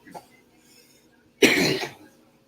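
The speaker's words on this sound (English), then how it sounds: "I got a little bit of cough, so if you hear me coughing" A single close, fairly loud cough from a host during a live stream, heard alone after a short pause, with a faint throat noise just before it.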